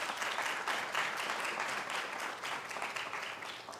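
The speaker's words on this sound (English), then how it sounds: "Ladies and gentlemen, can we give them a round of applause one more time?" Thick, continuous clapping fills a hall at an oratorical contest as the crowd applauds the speakers, an even rolling roar of many hands with slight surges, no talking over it.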